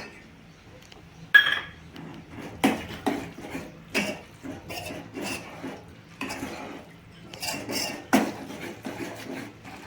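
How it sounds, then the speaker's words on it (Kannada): Peanut powder being stirred into a ridge gourd curry in a pan: a spoon scrapes and rubs against the pan in an uneven rhythm, with occasional light clinks, close and fairly quiet. "ಈಗ ಅದು ಹಾಕಿ ಚೆನ್ನಾಗಿ ಮಿಕ್ಸ್ ಮಾಡ್ಕೊಳ್ಳೋಣ್ರಿ"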